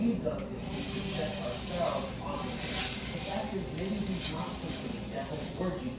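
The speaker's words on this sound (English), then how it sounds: "So next we're gonna put some butter on the skillet so the eggs won't burn" Butter melting in a hot skillet before eggs go in makes a continuous hissing sizzle with brief louder bursts, while a person talks over it.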